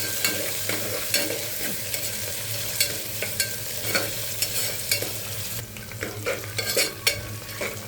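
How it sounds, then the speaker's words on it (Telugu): Onions, peas, sweet corn, carrots and potatoes fry in a pan with a constant close sizzle, stirred with repeated scraping clinks throughout and no talking. "ఉల్లిపాయలు, బఠానీ, స్వీట్ కార్న్, క్యారెట్, ఆలు ఇవన్నీ మంచిగా ఫ్రై చేసుకోవాలి."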